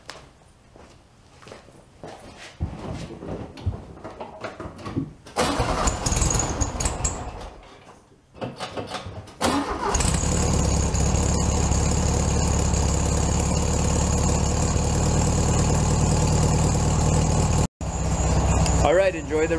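A 2001 Honda CR-V engine cold-starts on a warm, humid day and settles into a loud, steady idle. Several seconds of footsteps and handling noise come first, then the running engine fills the rest, with one brief gap near the end.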